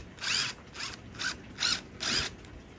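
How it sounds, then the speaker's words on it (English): A power drill drives a screw into a deck screw plug, giving five short bursts of whirring and ratcheting, each about a third of a second long with brief pauses between, close and fairly quiet, with no talking. "put it in the plug, and just drill it in there"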